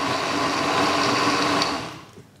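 A blender whirs loudly making a green smoothie, its motor a steady high-pitched whine with some churning texture that runs for about two seconds before cutting off and winding down.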